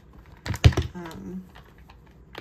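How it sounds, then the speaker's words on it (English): Tarot cards are shuffled by hand during a reading, producing a short burst of soft, clicking card flicks close to the mic, with faint room noise around it. "keep shuffling until something comes out"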